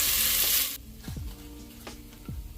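Bacon fries in a pan, a loud hissing sizzle that cuts off abruptly, followed by quieter crackles and a few clanks and scrapes of utensils nearby.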